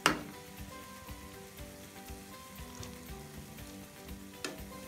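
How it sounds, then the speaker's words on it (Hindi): Gulab jamun balls fry in hot oil over a medium flame, giving a steady close sizzle and bubbling, with a sharp clink as they drop in at the start and another spoon knock near the end. "ऑयल गर्म हो चुका है, अब इसमें हम अपने गुलाब जामुन ऐड कर देते हैं।"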